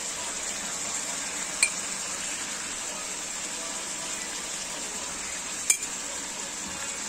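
Pota kaleji seasoned with turmeric and salt fries in a pan, giving a soft, continuous sizzle broken by two sharp metallic clinks of a utensil against the pan.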